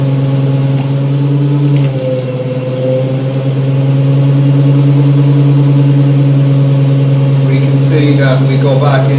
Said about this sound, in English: see our flange is spinning away at nice high RPMs.